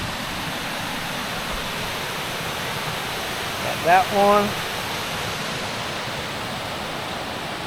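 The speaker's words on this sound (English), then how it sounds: "figured I'd show you all the other waterfalls." A waterfall in Washington's high country makes a steady, broad rushing roar throughout, with someone briefly talking over it midway.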